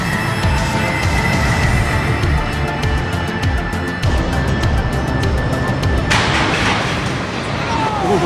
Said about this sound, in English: Those brakes. You hear those brakes?